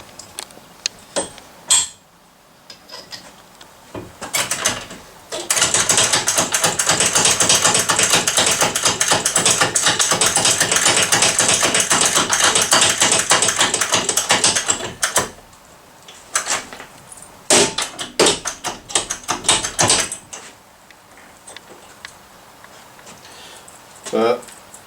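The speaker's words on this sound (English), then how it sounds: "we put a bearing splitter on just loosely so that we can press that out" A rusted bearing being pressed off a Brose motor crankshaft with a bearing splitter: loose clicks and metal taps, then a long, loud, steady ratcheting grind of about ten seconds, followed by more scattered clanks and knocks.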